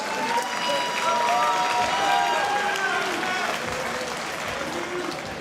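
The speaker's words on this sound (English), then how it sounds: "one more round of applause" A crowd at a combat sports event applauds after a Kenneth Klein versus Ares Loynab fight, loud continuous clapping and cheering with whistles and a held tone running through it, fading slightly toward the end.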